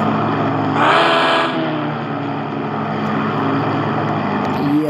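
A supercar engine idles steadily in the Car For Sale Simulator video game, a constant loud droning rumble, with a brief brighter rise in tone near the start.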